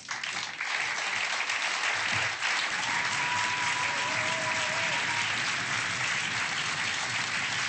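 A studio audience gives David Garrett loud, sustained applause, a dense wash of clapping that holds steady throughout, with a faint voice briefly audible over it.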